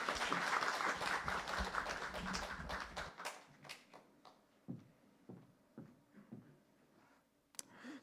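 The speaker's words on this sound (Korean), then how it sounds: "그래서 다 모두에게 우리 박수하도록 하겠습니다." A church congregation applauding, a dense burst of clapping that thins after a few seconds into scattered, sparse claps fading out, heard at a moderate distance in the sanctuary.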